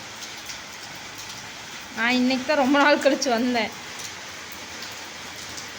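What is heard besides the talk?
heavy rain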